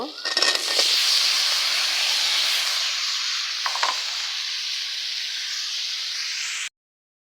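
Loud, steady sizzle of sliced sweet gourd dropped onto lightly fried onions in a hot pan, with an initial burst of hissing that settles into a continuous crackling fry before cutting off abruptly.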